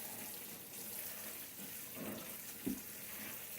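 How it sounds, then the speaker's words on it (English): Rainwater poured onto dry shredded cardboard makes a soft, steady splashing wash at low volume, with a small slosh near the end. "it is about a gallon of water that I just used just now"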